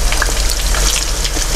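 Steady, crackling sizzle of chicken drumsticks frying in hot oil, close and fairly loud, with continuous popping and hissing throughout.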